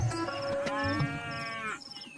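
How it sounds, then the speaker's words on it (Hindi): A buffalo lows in one long, loud, harmonically rich call close by, rising and sustained for over a second before breaking off, with a few shorter grunts around it. "बंकू भैंस की रस्सी पकड़ लेता है"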